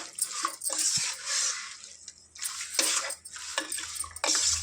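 Country chicken tossed with salt and turmeric in a pot, giving repeated wet squelching and metal clinks of stirring, close and fairly loud, with brief pauses between strokes.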